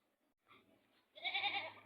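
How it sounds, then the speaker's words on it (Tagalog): Goat bleating at a farm with other livestock and fowl: a faint short call followed by one louder, drawn-out nasal bleat, close and alone without talk. "Kambing."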